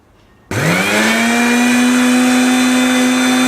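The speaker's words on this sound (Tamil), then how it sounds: "நான் இப்போ மிக்ஸி ஜாரில் இந்த புதினா, இஞ்சி, கத்தாழை கொஞ்சோண்டு உப்பு போட்டு தண்ணி விட்டு அடிச்சுக்கலாம்." A mixer grinder starts abruptly and whirs at full speed as it blends mint, ginger, aloe vera, salt and water into juice, giving a loud, steady motor whine that continues after the sharp start.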